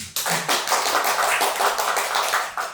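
An indoor seminar audience applauding the MC, a dense, steady burst of many hands clapping close by for nearly three seconds, with no talk over it.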